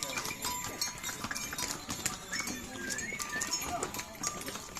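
Faint, irregular hoof clops on hard ground, with quiet voices and outdoor background noise mixed in.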